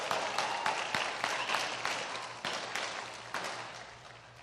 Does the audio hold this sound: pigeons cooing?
no